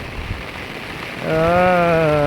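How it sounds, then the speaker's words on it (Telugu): A constant patter of rain fills the background where buffaloes graze, then a loud, close buffalo bleat or moo breaks in and holds to the end. "ఈరోజు అయితే ఫుల్ వర్షం పడుతుందన్న"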